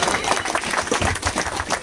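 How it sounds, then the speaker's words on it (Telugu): A crowd at a Christmas celebration claps in dense, rapid applause, loud and close, lasting the whole short stretch. "అందరు కూడా చప్పట్లు కొడదాం."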